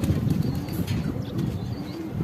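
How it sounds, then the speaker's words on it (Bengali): A Shahjahanpuri pigeon comes down from the sky in an outdoor loft area after rain, with low cooing and a brief flutter of wings close by over a constant background rumble. "আর এই যে একটা কবুতর আকাশ থেকে নামতেছে"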